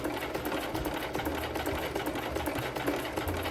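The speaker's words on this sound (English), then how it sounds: "So practice going slow and steady to get a straight stitch line." A sewing machine stitches a slow, steady straight line through fabric, its motor whirring in a continuous close hum with a fast rhythmic needle clatter and no talk.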